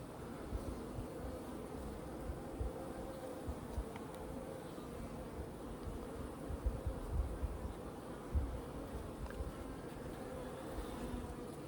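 Honeybees buzzing around an open hive during an inspection, a steady dense hum close by with a few louder swells, no talking.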